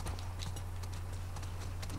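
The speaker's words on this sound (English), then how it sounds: "Can I not ride you, horse?" Horse hooves in The Last of Us Part II clip-clop in a quick, even rhythm over a steady low hum, close and continuous with no voices.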